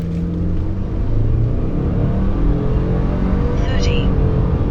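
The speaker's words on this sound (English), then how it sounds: "Gonna kind of rev up a bit." A 2018 Subaru Forester XT engine revs steadily as the car accelerates, a continuous loud rumble filling the interior, with a faint brief chirp near the end.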